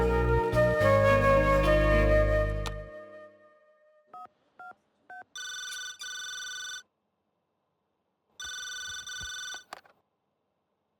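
A telephone rings in short repeated bursts after a fading musical swell, with brief beeping tones before two longer electronic ring bursts separated by silence.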